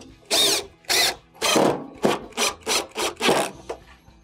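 Screws driven back in around the perimeter of a Samsung electric stove's radiant-element plate during repair, heard as eight short, loud power-driver bursts spaced evenly, close and with no talk.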